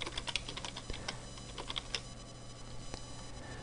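Keys clatter on a computer keyboard in quick, irregular bursts of close, soft clicks over a low steady hum, with no voices.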